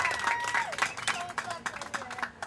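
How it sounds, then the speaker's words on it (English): An audience of volunteers at a river cleanup event claps in a brief burst of scattered applause, mixed with someone speaking over the clapping. "you really ought to clap for yourself for this one"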